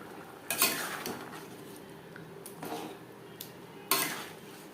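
Egg curry with fried eggs and garam masala stirred through gravy in a pan, giving a few scraping, clattering spoon strokes spaced over a soft background sizzle, with no talking.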